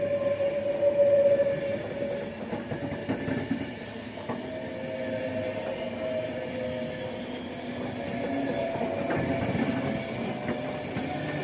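Avanti West Coast class 390 unit 390126 passes at Berkswell on the West Coast Main Line, a continuous rumbling drone with a tonal whine and faint squeals that hold at a moderate level throughout.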